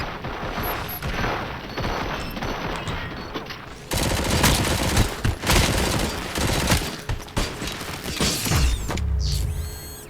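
Gunfire and mechanical clatter in the video game Robocop: Rogue City: dense repeated shots and impacts, loud and close, growing heavier partway through amid metallic rattling.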